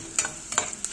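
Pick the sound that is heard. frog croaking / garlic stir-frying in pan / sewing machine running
garlic stir-frying in pan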